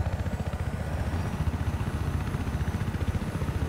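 A helicopter flies in an Xbox One video game, a loud, steady rhythmic rotor thump with engine drone running throughout.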